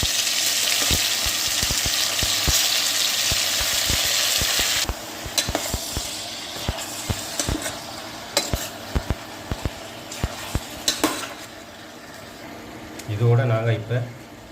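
Cuttlefish frying in a pan for a Jaffna-style curry: a loud, steady sizzle for several seconds, then stirring clicks and scrapes against the pan, with a voice briefly speaking near the end.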